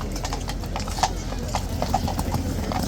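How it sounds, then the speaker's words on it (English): Horses' hooves clip-clop steadily on pavement as two police horses ride off after a Big Ben protest standoff in London, a continuous rhythmic clatter under background street noise. "horses riding off into the sunset"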